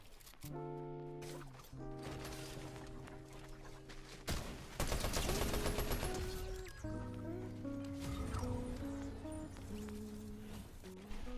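Gunshots in Fortnite mixed with game music and sound effects, several sharp cracks and a dense burst of fire in the middle, with building and movement sounds between the shots.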